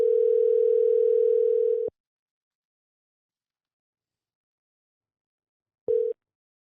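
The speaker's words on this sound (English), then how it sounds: "but I'm calling Cody right now" A steady telephone dial tone sounds while a call is being placed, cutting off abruptly after about two seconds, then a short matching burst returns near the end after silence.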